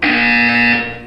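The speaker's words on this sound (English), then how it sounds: "You will hear a buzzer." A loud, harsh electronic buzzer in the video game Portal 2 sounds once as a single sustained tone lasting about a second before cutting off.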